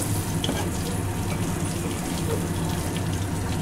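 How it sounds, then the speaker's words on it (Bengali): Shing fish, stinging catfish, sizzle and crackle as they fry in a pan, a steady close hiss without speech. "মাছগুলো ভেজে তুলে নিলাম"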